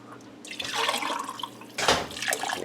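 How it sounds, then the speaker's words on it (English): Water swishes and splashes inside glass jars as they're rinsed out, a close, irregular sloshing that swells in two bursts over a couple of seconds. "Swish out these jars."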